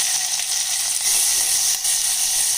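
Shallots fry in hot groundnut oil with a loud, continuous crackling sizzle, steady and close, with no voices.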